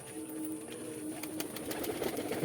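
Fancy pigeons at a farm loft give soft, low coos that blend into a steady murmur, nearby and moderately loud, with light scuffing noises behind them.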